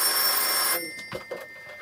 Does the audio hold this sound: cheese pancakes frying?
no